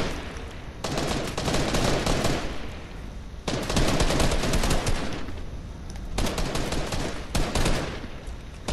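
Video game gunfire rattles in three long bursts of rapid automatic fire, loud and continuous, with brief lulls between the volleys.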